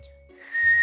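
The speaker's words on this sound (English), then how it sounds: "You whistled again!" A person whistles a short, clear, steady high tone that lasts under a second, close and fairly loud over a low background hum.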